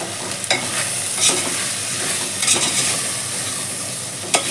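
Chili powder gets stirred into a drumstick lentil curry in a pan. A loud, close sizzle runs throughout, broken by several distinct spatula scrapes at irregular intervals.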